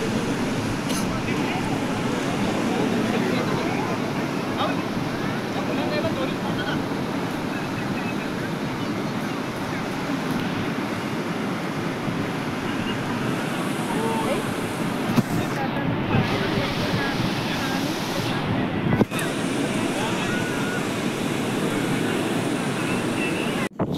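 Sea waves on the beach at Velas roll in as a loud, continuous wash of surf, steady throughout with a brief gust-like dip near the end.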